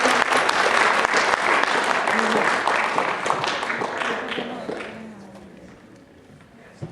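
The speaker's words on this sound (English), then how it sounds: "Round of applause one more time for New Mission BCLA ACC." Audience applause at a high school awards ceremony, a dense burst of clapping from a large crowd that gradually thins and fades out over several seconds.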